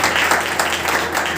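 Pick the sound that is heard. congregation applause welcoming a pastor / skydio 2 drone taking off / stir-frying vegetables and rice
congregation applause welcoming a pastor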